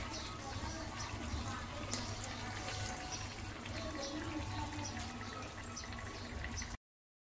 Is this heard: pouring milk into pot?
yes